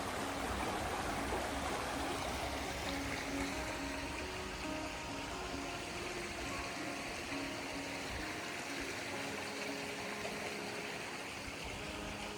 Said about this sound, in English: down by the river here.